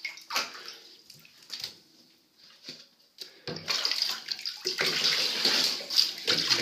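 Water runs from a tap into a tub while a Pomeranian puppy is bathed, starting as intermittent splashes and swelling to a steady close rush of flowing water.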